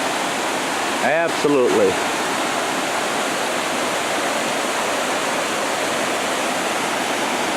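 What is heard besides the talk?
Potato River Falls waterfall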